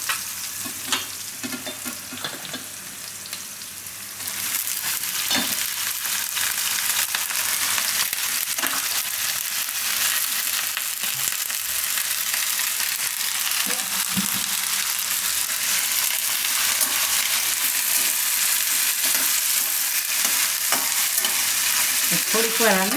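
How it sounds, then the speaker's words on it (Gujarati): Eggplant pieces fry in hot oil over a raised gas flame, a loud steady sizzle broadening after a few seconds, with intermittent scraping and clacking of a spoon stirring the pan, close up and with no talking. "થોડીક વાર આને તેલમાં પાકવા દઈશું. વચ્ચે હલાવતા રહે."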